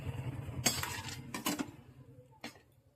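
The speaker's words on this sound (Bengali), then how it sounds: "আমি পাঁচ মিনিটের মধ্যে ঢাকা দিয়ে রাখছি" A metal lid is set onto a cooking pot of simmering potato and fish curry, giving a few faint clinks and clatters at close range with no talk.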